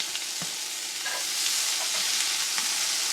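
Leftover potatoes and green beans fry and get stirred in a hot pan, a loud steady sizzle with scattered crackles and soft scraping, no voices.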